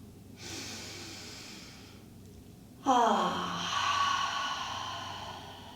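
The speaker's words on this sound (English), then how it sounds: "Take a deep inhale." Deep breaths during a yoga practice: a long, soft inhale fills the first seconds, a brief pause follows, then a louder, fuller exhale with a slight nasal snort to its onset. The breaths are close and alone, with no talk.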